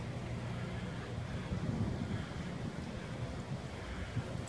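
Steady gusting wind from Hurricane Irma rushes past the microphone outdoors, a constant low roar and buffeting with no speech.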